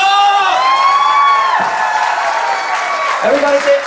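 An audience at a Christina Grimmie Foundation event cheers and whoops loudly, with sustained shouting voices and clapping close by that dip briefly, then swell again.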